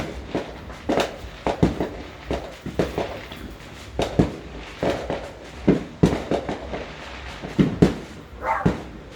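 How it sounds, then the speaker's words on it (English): Fourth of July fireworks pop and crackle repeatedly in the distance, irregular bursts echoing across the neighborhood, with a dog barking faintly between the blasts. "setting off fireworks when we're dry as a tinderbox out here"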